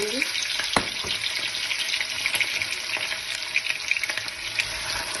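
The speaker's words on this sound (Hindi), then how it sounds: "इनको हम अच्छी तरह भूनेंगे बिना किसी मसाले डाले हुए।" Potatoes fry in a pan without spices, a dense steady sizzle with a few louder spatters and crackles across the whole stretch, close and alone with no talk.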